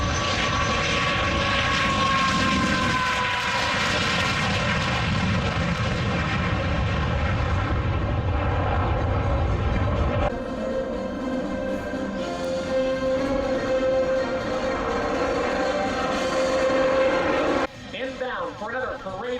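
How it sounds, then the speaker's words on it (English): MiG-17 Fresco jet fighter flying past at an air show, a loud rushing jet roar that swells and shifts in pitch as it passes, with an announcer's voice over the noise. "Here are the Mikoyan Goranich MiG-17"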